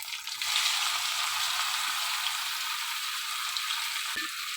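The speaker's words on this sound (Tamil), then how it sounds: "இப்போ இது நல்லா கடுகு பொரியட்டும்." Mustard seeds splutter in hot oil for a lemon peel pickle, a bright, steady, close-up frying hiss with faint crackles and one sharp knock near the end, with no voices.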